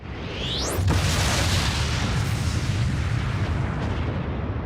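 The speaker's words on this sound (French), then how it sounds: "cet élément déclencheur serait une supernova, l'explosion d'une étoile" A supernova, the explosion of a star, rendered as a deep booming blast that opens with a sharp crack, then swells into a loud, sustained rumbling roar. No voices.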